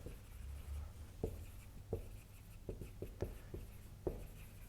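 Chalk or marker strokes on a board during a French math lecture: a handful of short, sharp taps and scratches spaced irregularly, faint against a quiet room hum.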